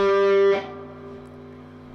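Distorted electric guitar note from a solo, one bright sustained tone that drops sharply after half a second into a quieter ringing tail, with a faint pick noise at the end.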